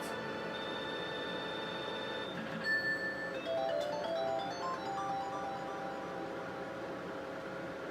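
Sonic 2 1-up jingle from the Sega Genesis, heard as a bright chiptune melody of stacked square-wave tones playing alone, steady and clear with a brief rising flourish partway through.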